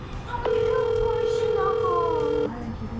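An outgoing phone call rings out: one steady electronic tone holds for about two seconds, loud and close, then cuts off, with faint room noise around it.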